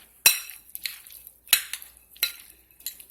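Spoon stirring a lobster and shrimp seafood salad with mayonnaise in a bowl, producing four or five sharp clinks against the bowl with soft, wet scraping between them, close and with no other sound.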